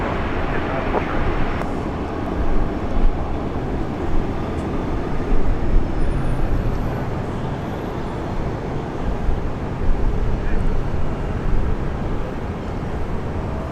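A jet airliner landing on runway 34 left at Sydney International Airport, a loud continuous low roar of engines and rushing air that holds steady throughout, with radio chatter beneath.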